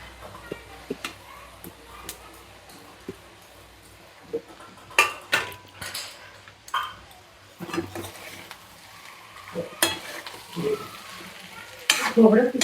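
Potatoes are stirred into softened onions frying in a home kitchen pan, a low background sizzle punctuated by repeated scraping strokes and spoon knocks against the pan, with a faint voice.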